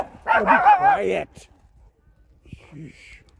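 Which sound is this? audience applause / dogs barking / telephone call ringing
dogs barking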